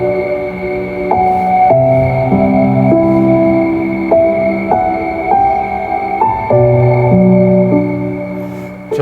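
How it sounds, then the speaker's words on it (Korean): Soft, sustained sleep music fills the cabin of a Lincoln Navigator through its Revel audio system, with slow, gently shifting chords and held notes playing steadily and fairly loudly without any talk. "지금 이거는 수면 음악이라고 누가 틀어놨네요."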